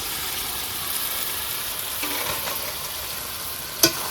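Ivy gourd (kundru) frying in oil with a tomato-paste gravy gives off a steady, loud sizzling hiss. A faint scrape of stirring comes through, then a sharp clink near the end.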